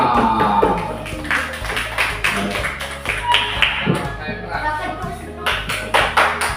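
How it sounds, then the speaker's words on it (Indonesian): Elementary school pupils applaud a classmate stepping up to present, giving a loud, uneven spell of clapping in a classroom with bursts of quick hand claps over a steady low hum. "Kasih tepuk tangan Tuan Naufal"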